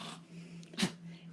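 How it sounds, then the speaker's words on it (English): A dog snorts once, a short breathy burst in the background, behind a steady low electrical hum in a quiet room. "That's my dog snorting in the background."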